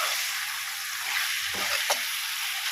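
Meat sizzles steadily in a hot pan with a spoonful of garam masala, a close, even hiss of frying broken by a couple of brief scrapes and knocks as it is stirred.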